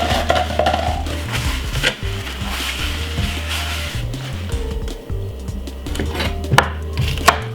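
A knife chops vegetables, probably tomato and cucumber, on a board for a green salad with sundried tomatoes. The blade strikes in a steady run of close, loud, rapid cuts that continue throughout with no talk.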